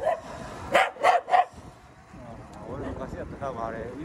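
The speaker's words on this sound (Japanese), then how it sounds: "次から吠えんな" A dog barks three times in quick succession close by in a residential neighborhood, followed by someone talking under light outdoor background noise.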